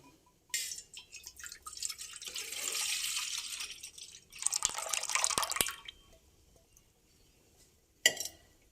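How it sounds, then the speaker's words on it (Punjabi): Milk poured into a pot for making rice pinni, with splashing and trickling in two bursts followed by a single clink near the end, no talking. "ਇਹਦੇ ਵਿੱਚ ਆਪਾਂ ਦੁੱਧ ਪਾ ਲੈਨੇ ਆ"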